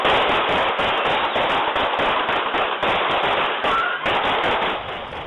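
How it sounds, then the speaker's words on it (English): Machine gun fire on Chicago streets, rapid continuous cracking bursts of shots recorded outdoors, loud and dense with brief gaps, slightly fading toward the end. "That machine gun fire is in the blessed streets of a city in the United States of America, Chicago, where they went to a funeral."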